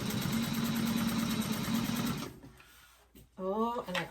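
Sewing machine back stitching a 1/4 inch seam to close a doctor bag, a steady loud whir for about two seconds that then stops, followed by a voice speaking.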